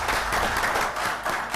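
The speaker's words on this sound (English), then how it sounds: "Let's give these people a round of applause as well." A round of applause from the audience at a city council meeting in Bastrop, Louisiana, a short burst of steady clapping filling the room with no talking on top.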